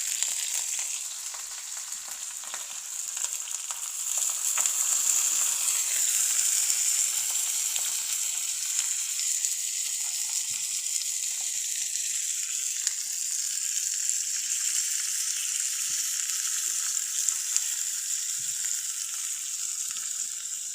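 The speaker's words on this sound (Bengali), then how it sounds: "রান্নাটা আমি সম্পূর্ণটাই সরষের তেল দিয়ে করলাম, একটু বেশি করে তেলটা দিই।" Leafy greens fry gently in mustard oil over low heat, a steady bright sizzle and crackle that carries on unbroken and fairly quiet, with nobody talking.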